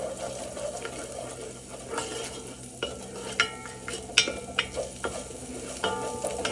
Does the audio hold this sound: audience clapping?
no